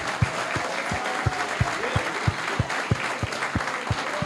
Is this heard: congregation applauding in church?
yes